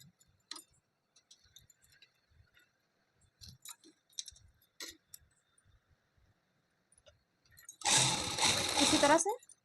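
A sewing machine runs a thin seam along fabric piping, a steady dense whirring burst near the end after quiet, scattered handling clicks and rustles.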